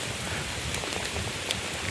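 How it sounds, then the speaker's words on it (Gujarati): Steady rain falling on a road near a highway, a faint, even hiss of drops with a few slightly sharper spatters, no voices. "વરસાદ ચાલુ થઈ ગયો રસ્તામાં."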